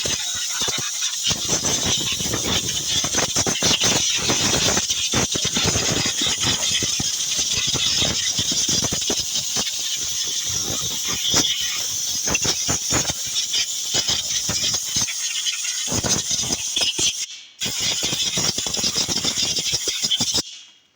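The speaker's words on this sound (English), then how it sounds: "We're going to start by blowing everything out, just getting all these pine needles and spider webs out of here." A compressed air nozzle blasts pine needles and spider webs out of a Subaru, a loud continuous hiss with rattling debris close by, briefly cutting off near the end before resuming, with no talking.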